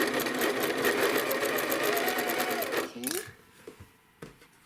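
A sewing machine stitches a quilt block in a fast, steady run for about three seconds, then stops, leaving a few faint clicks and handling sounds.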